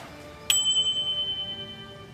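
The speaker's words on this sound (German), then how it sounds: "unsere Klingel geht auch wieder" A doorbell rings once with a sharp chime, its bright tone hanging and fading slowly over the next second and a half in an otherwise quiet room.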